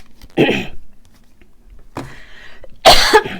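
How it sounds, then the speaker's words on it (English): Three separate harsh coughs right into a close microphone, each a short loud burst with pauses between, with no talking. "Sorry for coughing in the mic."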